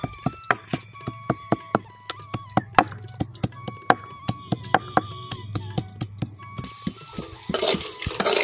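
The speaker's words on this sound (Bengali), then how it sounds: "এখন আমি এখান থেকে নিয়ে নিচ্ছি বেশ কিছুটা আদা আর রসুন। এখন আমি বেটে নেব।" Ginger and garlic being pounded into a paste, a steady run of sharp, evenly spaced knocks close by, quickening slightly toward the end with some scraping.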